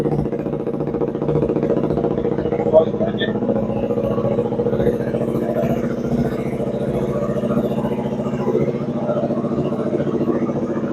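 A KTM RC 125 motorcycle idles steadily close by, a low, even single-cylinder throb with a slight clatter, while someone talks over it.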